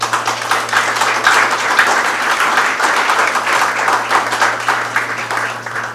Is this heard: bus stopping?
no